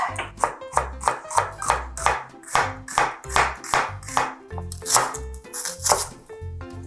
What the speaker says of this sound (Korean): 양파 반 개에 채 썰어줍니다